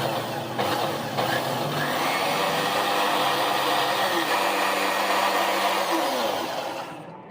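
A blender whirs through chutney in a home kitchen, a loud, steady motor whine holding constant for several seconds before winding down at the end, with no talking over it.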